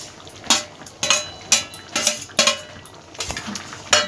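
A spoon strikes a metal pan in a steady rhythm of clinks, about two per second, while pointed gourd, prawns and potato are stirred for a Bengali curry. The clinks are close and clear, with a soft wet sizzle beneath.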